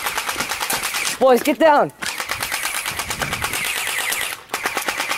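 Continuous machine gun fire rattles in rapid bursts during a staged combat scene, loud and close, briefly interrupted when someone shouts an order before the shooting resumes.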